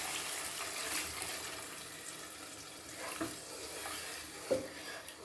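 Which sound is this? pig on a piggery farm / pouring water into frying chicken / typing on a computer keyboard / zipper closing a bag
pouring water into frying chicken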